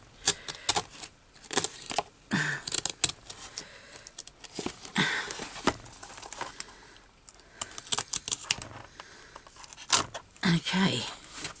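Sharp, close cutting and snipping against the spine of a journal being repaired, coming in irregular bursts of short clicks and scrapes, with a voice talking over parts of it.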